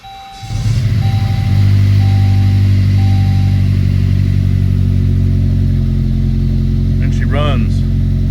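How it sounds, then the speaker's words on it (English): A Saab 9-3 engine with 114,000 miles and a few faults cranks, catches, and settles into a steady loud idle, with a brief beeping tone before it starts and chirping near the end. "Show that for engine start."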